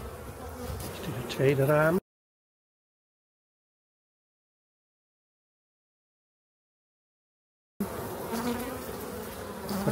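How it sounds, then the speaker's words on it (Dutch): Honeybees buzz densely in an open hive during a late-January frame inspection. Someone talks over the close, steady hum, which cuts to silence for several seconds before returning. "Vol met bijen en daar zie ik zelfs al gesloten broed en open broed, volop larfjes."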